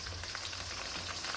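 Curry leaves crackle and sizzle in hot oil in a pan for a vendaikkai kaara kulambu, a steady, close frying hiss with fine popping throughout and no voices.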